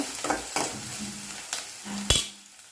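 Sliced onions sizzle in hot oil in a pan for a ridge gourd and dried prawn curry, with steady frying under a few scraping stirs of a spoon and one sharp knock near the end.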